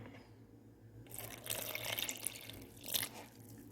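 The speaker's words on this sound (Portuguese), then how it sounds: "Então, vamos dar uma misturadinha de leve e vamos acrescentando a água." Water is added bit by bit to flour mixed with a little yeast for a soft no-knead focaccia dough, giving faint, close splashing and trickling in two short bursts.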